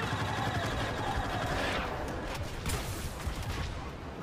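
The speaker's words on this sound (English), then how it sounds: "Two secondary fire shots and two bursts." Bursts of gunfire from the TL-50 Heavy Repeater in a shooter game, dense and continuous across the clip with rapid shots layered over game noise.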